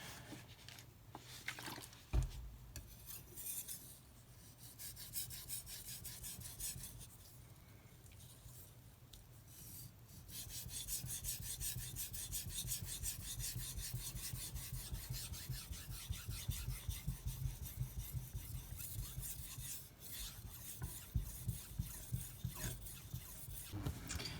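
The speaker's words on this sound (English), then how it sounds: "I'm going to go ahead and sharpen the edge." A knife edge is worked on a Japanese natural whetstone, a Jnat Aiiwatani/Shoubudani koppa, in steady back-and-forth rasping strokes. The strokes are close and rhythmic, with a short pause before they pick up again, and no talk.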